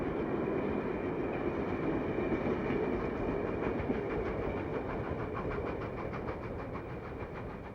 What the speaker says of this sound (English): engine 2468 passes by with another southbound commuter train